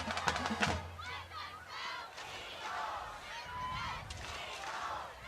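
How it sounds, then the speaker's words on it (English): Crowd of Eagle fans cheering in the stands at a night high school football game, a steady broad roar of voices lasting throughout, with some horn-like honks and shouts standing out early. "Got the Eagle fan base just cheering."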